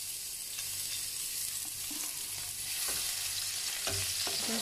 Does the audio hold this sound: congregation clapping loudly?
no